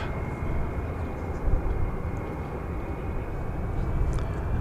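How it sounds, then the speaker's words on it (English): An Alaska Airlines Boeing 737-900 arriving from Seattle at DFW Airport, producing a steady broadband jet rumble with a faint high whine, moderately distant and constant throughout. "That Alaska Airlines 737-900 coming in from Seattle."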